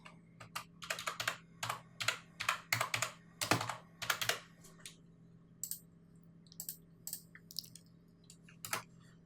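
Quick bursts of clicking keystrokes on a computer keyboard come in two clusters, dense at first and then sparser, close and fairly quiet over a low steady hum.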